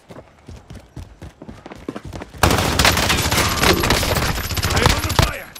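Gunfire in the Call of Duty: Modern Warfare Golden Plunder mode, a few faint shots at first, then a sudden loud, dense stretch of rapid shooting and explosions that continues for several seconds close by.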